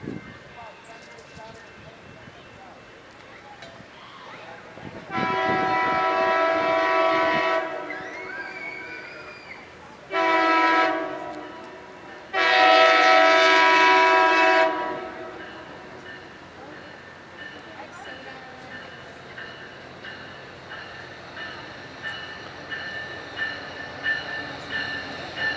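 Steam locomotive 765 pulls into Simi Valley station, its horn sounding in three loud blasts over a rumbling approach while people talk nearby.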